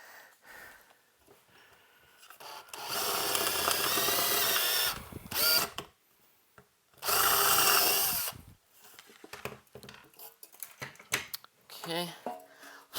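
A power drill with a 15/64 bit bores through a metal chassis in two loud bursts of a few seconds each. Quieter handling noises and a nearby voice come between them.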